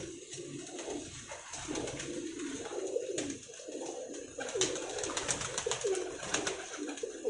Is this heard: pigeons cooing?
yes